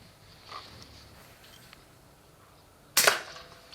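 A single sharp air rifle shot during a night of rat shooting. It comes as one close crack with no voices around it, after a quiet, faintly rustling stretch.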